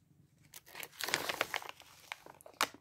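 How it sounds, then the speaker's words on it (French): A cat eats very large pieces of food, producing close, irregular bursts of crunching and crackling chews over a few seconds with no voices. "Elles sont tellement grosses que mon chat a du mal à les avaler."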